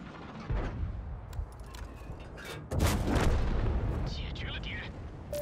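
A Type 62 tank's gun fires in a tank video game, giving two heavy booms a couple of seconds apart with rumbling and mechanical clatter over a constant background, while a voice talks at times.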